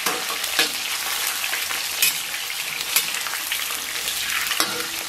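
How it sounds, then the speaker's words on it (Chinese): Scallion and ginger dropped into warm oil in a wok sizzle and crackle steadily while being stir-fried, with a few louder scrapes and tosses of the spatula close up and no talking. "现在咱们锅里边稍微来点油，油温两三成热，咱把葱姜给它下到锅中"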